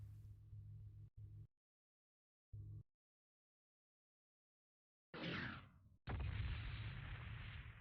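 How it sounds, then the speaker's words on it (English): Explosion in the MechWarrior 2 video game, a sudden broadband roar that cuts in late and rumbles on loudly after short bursts of sound and long silent gaps. "Oh, I heard the explosion on that one."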